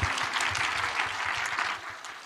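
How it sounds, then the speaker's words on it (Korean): Audience applause at a Korean church gathering, a steady dense burst of clapping lasting a couple of seconds, with faint low voices underneath before it tapers slightly. "박수"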